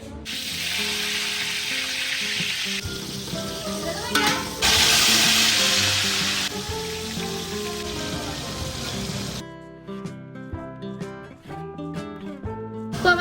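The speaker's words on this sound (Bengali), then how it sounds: "বেরেস্তা ভাজা কমপ্লিট" Onions sizzle as they deep-fry into crisp beresta for mutton biryani at a rooftop picnic, a loud steady hiss with stirring clatter, later fading into scattered clinks and kitchen noises.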